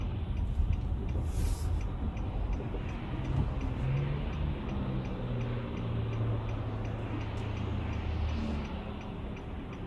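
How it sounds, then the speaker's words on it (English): Steady road traffic with cars rolling past in a continuous broad rumble, moderately loud and unbroken for the whole stretch, with no talking. "lot of traffic today."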